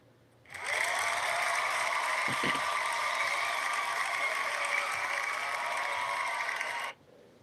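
Cheering applause sound effect played on a live stream: a canned burst of crowd applause that switches on abruptly, holds steady for about six seconds at a fairly loud level, then cuts off sharply.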